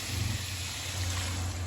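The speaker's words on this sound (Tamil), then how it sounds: "இப்போ இந்த தண்ணி ஊற்றுறோம்." Water is poured into a cooking pot, a steady, fairly close rushing trickle with a low hum beneath it and no voices.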